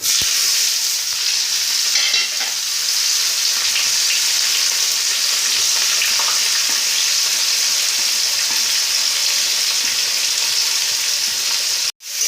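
Whole garam masala spices and chopped onion crackle and sizzle loudly in hot oil for chicken biryani, a dense, continuous frying hiss heard up close and alone, ending with a brief clunk.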